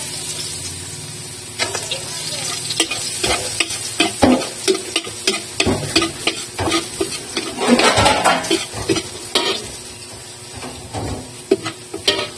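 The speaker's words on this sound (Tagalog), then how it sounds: "Magigisa na tayo." Garlic sautéing in a pan with brisk, repeated spatula scrapes and clacks over a steady hiss of frying oil, loud and close, with a voice speaking briefly in the background.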